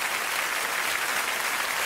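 An audience applauds a ring juggler at a live show, producing dense, steady clapping throughout that sounds loud and full, with no voices heard over it.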